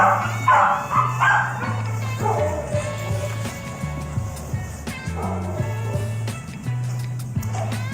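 Several dogs bark and yip in an animal shelter's dog room, the repeated barks echoing loudly off hard walls in an irregular, overlapping chorus, with a few whimpers mixed in.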